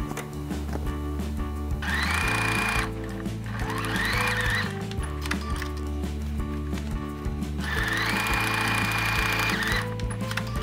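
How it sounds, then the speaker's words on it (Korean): A sewing machine stitches fabric seam allowances together on a fabric basket's pockets, running in loud mechanical bursts of a few seconds each with pauses between, close and steady with no talk. "시접들끼리 살짝만 봉제하시면 돼요."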